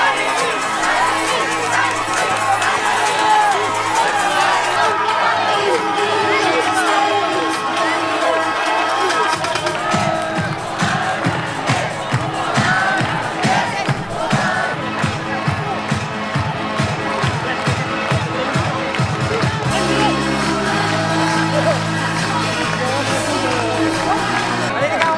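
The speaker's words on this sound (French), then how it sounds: "ces applaudissements lui sont dédiés" A large crowd at a political rally at Porte de Versailles, Paris, applauding and cheering loudly and continuously, with rhythmic clapping in the middle, shouts and a hubbub of voices.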